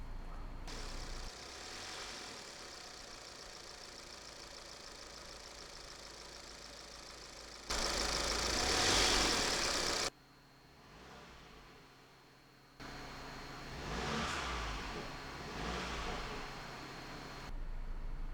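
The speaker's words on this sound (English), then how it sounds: "we're going to give the car a few revs" A car engine is recorded near the intake, idling with a steady hum and then rising in several separate revs, each one a loud swell followed by a drop back to a low idle. No talking is heard.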